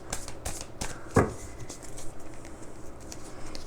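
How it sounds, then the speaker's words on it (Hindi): Tarot cards are shuffled by hand in quick bursts, giving a close, soft riffling patter with a few sharper flicks and no speech over it. "जल्दी से शफल कर लेते।"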